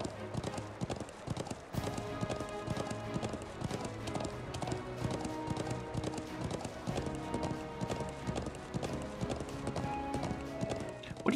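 Steady clip-clop of horse hooves in a brisk rhythm in the video game Trails of Cold Steel II, layered over a looping game soundtrack with music and ambient tones.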